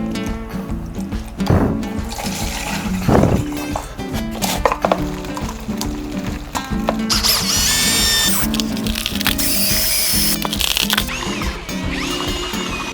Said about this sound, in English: got me drill and me stirrer on the end